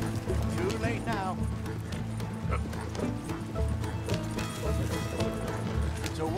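Horses gallop in Red Dead Redemption 2, with rhythmic hoofbeats running through the whole stretch under in-game dialogue and other animal noises.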